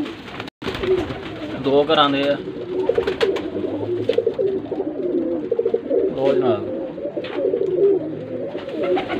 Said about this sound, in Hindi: माशाल्लाह रंगदार भी कबूतर है, तो देसी भी है